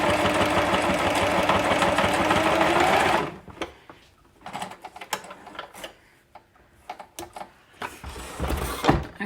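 A sewing machine runs steadily for about three seconds, stitching two layers of green and orange fabric for a rainbow cushion, then stops, leaving scattered light handling clicks and rustles.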